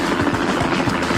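A helicopter from an episode of the 1975-79 Wonder Woman TV series gives a steady, loud rotor drone with faint low thumping pulses throughout, and no voices are heard.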